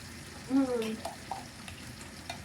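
Pork frying in a pan while it is stirred, a faint low sizzle under scraping and clinking stirring sounds, with a short tonal squeak early on.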